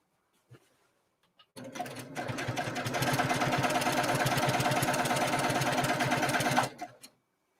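A sewing machine stitching quilt binding runs steadily for about five seconds, a fast even mechanical whir with rapid needle chatter, starting abruptly after a few soft clicks and stopping cleanly.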